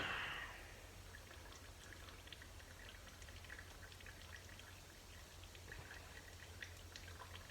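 Transmission fluid drains from a 1965 Mercury Comet with a C4 transmission, a steady close trickle and patter of liquid with scattered drips that runs without pause throughout.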